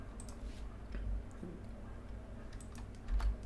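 Keys tapped on a computer keyboard while working in Excel, a few soft clicks ending with an Enter press, quiet and close over background hum.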